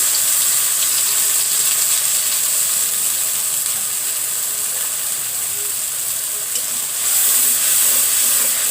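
Turmeric, dried chili and cumin powder with salt fry in mustard oil, giving a steady loud hiss and sizzle with light crackling, close and continuous, swelling slightly toward the end.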